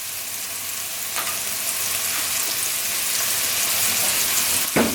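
Guajillo chili tomato sauce sizzling in a pan of chili, a steady frying hiss with a few faint clinks and a sharper knock near the end.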